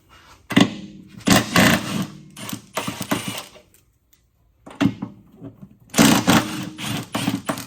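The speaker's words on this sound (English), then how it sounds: "I'm gonna loosen these 13 millimeter nuts here, and then these 15 millimeter bolts here." Wrench work loosening 13 mm nuts on a Chevrolet SS sedan transmission mount, with bursts of loud rattling or ratcheting broken by brief pauses and quieter clicks.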